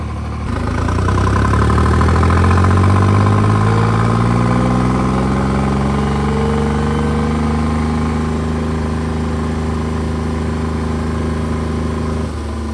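A 3630 tractor engine with its RPM opened up revs from idle to a high, steady drone that holds loud and close for several seconds with no talk.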